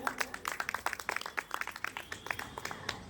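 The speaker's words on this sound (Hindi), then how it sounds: "जोरदार तालियां।" Audience clapping at a UP Mahotsav stage event in 2022, a quick irregular patter of many hands at moderate loudness, sustained for a few seconds with slight dips in intensity.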